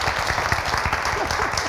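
A television studio audience claps in a steady patter of applause, moderately loud and continuous throughout.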